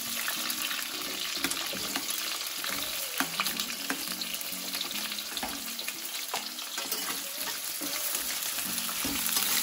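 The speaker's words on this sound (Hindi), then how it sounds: "तो अब हम अनियन को सौते होने देंगे" Raw onions sauté in a pan with a steady, close sizzle and frequent stirring scrapes, loud and continuous throughout with no voices.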